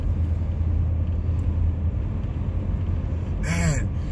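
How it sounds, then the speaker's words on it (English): Road traffic rolling past outside a 1995 Ford F150 on the move: a continuous low rumble of passing vehicles, steady and moderately loud, with a brief higher whine near the end. "there's a ton of traffic on the road"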